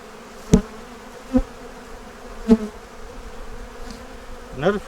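Honey bees hum steadily at an open five-frame hive that has lost its blue queen, a low continuous buzz broken by a few brief louder passes of single bees close by.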